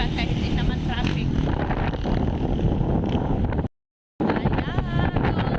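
Strong wind buffeting the microphone in rough gusts, with voices faintly underneath and a brief dropout partway through.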